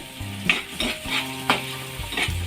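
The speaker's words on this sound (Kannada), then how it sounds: "ಇವೆಲ್ಲ ಒಂದು ಸ್ವಲ್ಪ ಹಸಿ ವಾಸನೆ ಹೋಗೋ ಥರ ಫ್ರೈ ಮಾಡ್ಕೋಬೇಕು" Grated ginger and garlic fry in a hot pan, a steady close sizzle with a spoon scraping and stirring through it at regular intervals, no voices.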